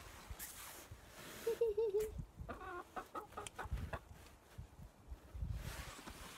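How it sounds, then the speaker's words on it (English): A single chicken clucks outdoors in heavy snow on a farm, giving soft, scattered clucks at moderate distance over quiet background noise. "There's only one chicken out at the moment."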